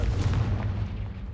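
The Confringo blast spell in Hogwarts Legacy goes off as a single deep, booming explosion that hits at once and rumbles away over about a second.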